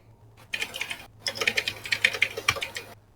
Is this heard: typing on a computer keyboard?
yes